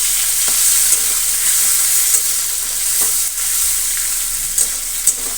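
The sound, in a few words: shrimp frying with salt and turmeric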